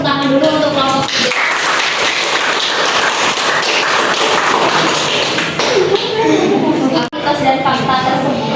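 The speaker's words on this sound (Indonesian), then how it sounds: "Tepuk tangan dulu untuk kelompok 3." A crowd bursts into sustained clapping that fills the room, with a few voices and thumps mixed in before it tapers off.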